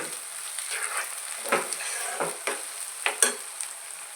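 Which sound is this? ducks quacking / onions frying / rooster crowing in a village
onions frying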